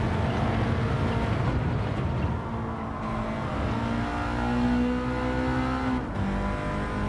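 Raspy Subaru Impreza engine note from Gran Turismo 7, loud and close, holding a sustained rev that rises steadily before a brief break and a fresh climb.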